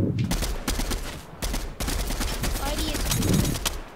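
Rapid gunfire in the battle-royale game Fortnite, a steady stream of close, sharp shots in quick bursts with a brief pause, under low voices talking.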